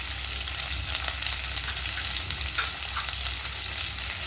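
Chopped onion fries in oil in a pan for a fish-oil curry, a soft steady sizzle with a few faint stirring clicks, close but quiet, with no speech.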